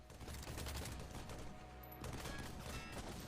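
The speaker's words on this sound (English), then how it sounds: "The optic is a long-range enemy that pins down the player with a machine gun." Machine gun fire in the video game Gunfire Reborn from a long-range enemy rattles in continuous rapid bursts, a dense chattering stream with a short break partway, heard faintly.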